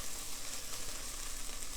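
Garlic sizzles and fries in a pan for soup, a dense, steady hiss of moderate volume with no voices over it.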